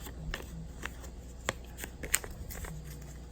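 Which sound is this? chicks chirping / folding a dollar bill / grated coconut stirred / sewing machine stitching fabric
folding a dollar bill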